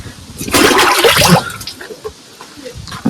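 Water splashes and gushes for about a second as it is poured into a mud-clogged vehicle axle being cleaned. It is loud and close, then drops to faint background noise and a soft voice.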